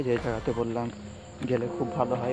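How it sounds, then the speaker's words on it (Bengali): Crickets chirp at night in an outdoor spot with thorny bushes, a thin steady trill running beneath continuous close talking. "আর শুধু ঝিঝি পোকার ডাক"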